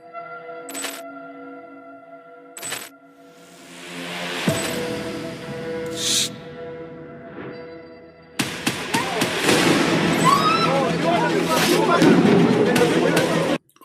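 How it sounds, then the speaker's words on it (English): Fireworks set off for Eid, with scattered distant pops and cracks at first, then a dense, loud run of rapid bangs and crackling, with people talking in the background. "This is firework, okay? They are firework, and we play them in the Eid."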